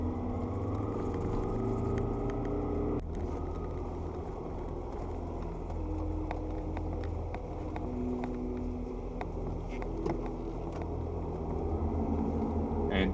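A 4WD vehicle drives across soft beach sand, giving a steady, fairly faint engine rumble with a low drone and scattered light clicks, no voices over it.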